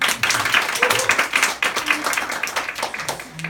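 A church congregation claps together in sustained, even applause, with a voice speaking briefly underneath.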